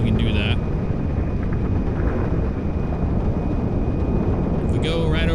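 An Antonov An-225 Mriya, the largest airplane in the world, flies in GTA 5, giving a steady, loud engine drone with a rushing, wind-like roar that holds evenly throughout.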